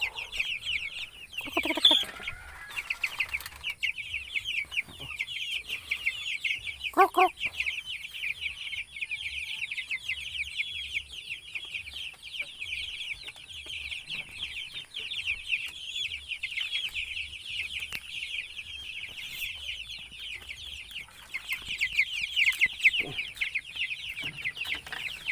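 Chickens raised for meat cluck continuously in a steady, busy chorus. A louder call breaks out near the start and another follows a few seconds later, and no one speaks.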